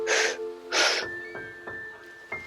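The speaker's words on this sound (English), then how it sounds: "I would like you to add that extended breath right after the pause." Two loud breathy exhales burst out close up, each let out with an audible voiced sound, followed by quieter soft breaths and a faint sustained tone.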